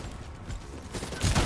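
Gunfire in Call of Duty: Black Ops 3, a burst of loud shots hitting near the end after some mechanical game noise.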